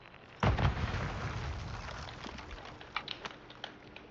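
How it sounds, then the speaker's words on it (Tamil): A single loud boom in the Warzone video game bursts out near the start, then a long rumbling decay fades with small crackles and pops trailing behind. "something exploded right"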